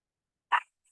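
A single short dog bark rings out once, fairly faint and somewhat distant, in an otherwise quiet room.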